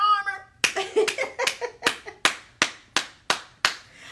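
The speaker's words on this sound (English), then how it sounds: "Claps on that one." Hands clapping about ten times in a steady, slightly slowing rhythm, sharp and close, starting right after a brief spoken word.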